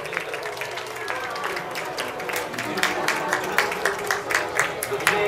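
An audience of students claps to welcome teachers at a farewell banquet for teachers. The applause builds into sharper, louder rhythmic clapping toward the end, with voices in the room underneath.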